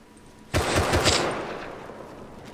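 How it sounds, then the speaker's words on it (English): Rapid burst of automatic gunfire in the video game Rust, a loud close string of shots that fades into a decaying echo, with no talk over it. "Is that you shooting?"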